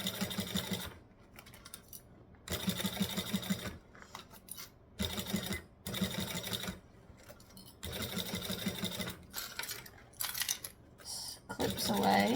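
Sewing machine stitching forward and back on a bag, running in short bursts of rapid whirring stitches separated by pauses, close and clear, with a voice speaking between runs.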